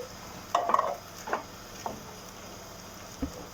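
A spoon stirs soup through a pasta sauce in a pan, making a few soft scraping and sloshing strokes spaced out over a quiet background.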